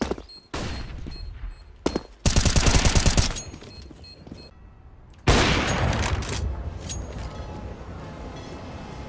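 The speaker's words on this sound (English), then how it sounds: "Throwing flashbang." Counter-Strike combat with a flashbang burst and bursts of gunfire: several sharp loud volleys, a dense crackling barrage, then a long ringing blast that slowly decays.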